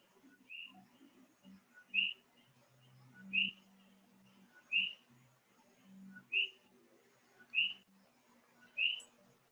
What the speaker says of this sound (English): Sound like a cricket or a bird or something. Something chirping.